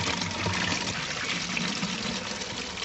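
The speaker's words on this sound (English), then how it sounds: "if you'd like to fill the bottle up with water" Water pours steadily into a plastic bottle with a small hole covered by a finger, a continuous close splashing trickle that fills the bottle in one unbroken run.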